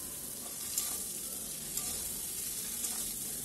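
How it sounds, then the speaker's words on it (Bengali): Fried puti fish sauté with spice paste in a pan, giving a steady close sizzle broken by three soft clicks from stirring. "এবার এর মধ্যে দিয়ে দিচ্ছি ভাজা মাছগুলো দিয়ে আবার একটু মশলার সঙ্গে মাখিয়ে নিয়ে ভালো করে কষিয়ে নেব।"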